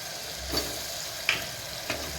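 A mutton curry base is sautéed with ground ginger, garlic, pepper and cumin paste, giving a soft, steady sizzle. Three brief scraping stirs of a spoon or ladle cut through the quiet frying.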